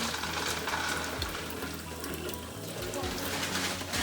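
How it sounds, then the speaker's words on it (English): Potatoes are washed in water for a large batch of potato salad, a continuous rushing, splashing wash of water close and steady, with a voice speaking faintly beneath it. "we're taking the potatoes, washing the potatoes"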